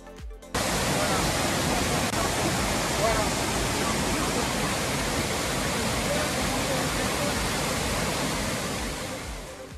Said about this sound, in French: L'eau n'a d'autre solution que de s'échapper par la source du Figueré.